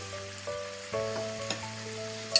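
Chili pasta fries in a pan with salt, soy sauce and vinegar, giving a quiet steady sizzle with a few soft clinks and scrapes of a spoon toward the end.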